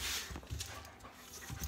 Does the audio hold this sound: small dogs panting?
yes